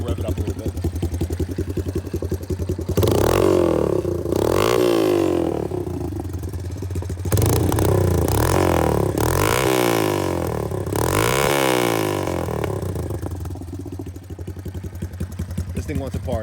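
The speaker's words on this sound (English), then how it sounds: "That Super Trap exhaust sounds killer on this bike" A 1983 Honda ATC185S three-wheeler with a 200S motor, Hi Performance ATC full suspension kit and Super Trap exhaust idles with a steady putter, then revs hard in repeated rising bursts, loud and close, settling back to idle.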